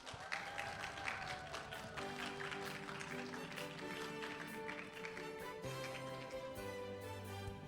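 Steady applause from a conference audience, many hands clapping evenly throughout, with a low hum underneath.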